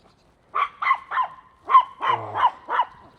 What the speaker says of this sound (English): Anybody want to buy a dog?